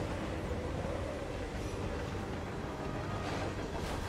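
Steady, dense rumble of a train rolling along rails inside Hitman 3, a continuous low roar with hiss that stays even and fairly loud for the whole stretch, heard from on board.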